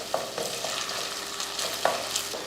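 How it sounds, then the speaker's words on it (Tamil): Ginger garlic paste, onion, peas and vegetables are being sautéed in a pan for rava kichadi, with a steady soft sizzle and a few faint stirring scrapes. No voices are heard. "இஞ்சி பூண்டோட பச்சை வடை போகிற வரைக்கும் வதக்கியாச்சு."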